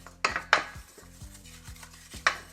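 Scraping and rubbing inside an empty cooking pot while Jamaican-style curry beef is prepared, with several distinct scrapes and metallic clinks close up in a quiet kitchen.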